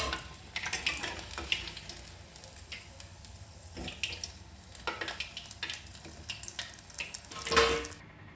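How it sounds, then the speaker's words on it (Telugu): Mirapakaaya bajji, chili fritters in batter, frying slowly in oil over a low flame, giving a steady soft sizzle with scattered crackles and light stirring clinks, close and fairly quiet with no talk. "కొద్దిగా సిమ్లోనే కాల్చుకోవాలండి"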